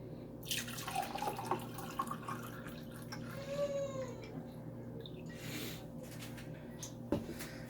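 Water trickles and splashes steadily into a glass, with a faint rising pour tone midway and a small clink near the end.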